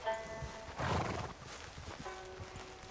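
A horse in the video game Red Dead Redemption 2 lets out a loud whinny near the start, then its hooves clop and it snorts softly over steady outdoor background sound.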